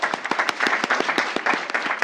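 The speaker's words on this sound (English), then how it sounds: "You'll probably want to clap multiple times for Amoga" Audience applause at a school board meeting honouring a United States Presidential Scholar, dense, steady clapping from many hands filling the room, loud and continuous without a break.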